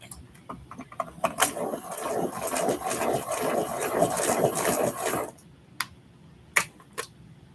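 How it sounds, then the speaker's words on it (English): A colored pencil in a light peach shade being sharpened, a close grinding, rasping scrape lasting about four seconds, then a few faint clicks and taps. "sharpening."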